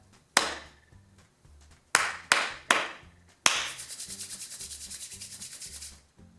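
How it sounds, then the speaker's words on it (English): A person claps a rhythm lesson: sharp hand claps ring out in an uneven pattern, then a rapid, evenly spaced run of lighter claps, crisp and close with no talking. "I'm going to clap your rhythm"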